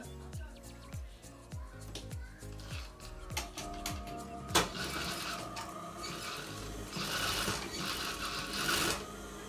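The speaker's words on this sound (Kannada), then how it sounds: "ಈ ತರ ಅಷ್ಟು ಅಪೋಸಿಟ್ ಇಟ್ಟಾಗೆ ಸ್ಟಿಚ್ ಮಾಡ್ಕೋಬೇಕು" A sewing machine stitches invisible piping onto a blouse, its needle hammering in a steady rapid rhythm of close, sharp mechanical taps, at times quickening into a denser whirring run, with no talk.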